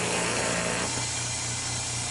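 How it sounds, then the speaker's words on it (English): A Fortress Ultra Quiet Series air compressor, set up to supply air for a hydraulic press, runs with a steady broadband mechanical hum and hiss that shifts slightly in tone partway through, moderately loud and alone. "We're going to turn on, see how noisy it is."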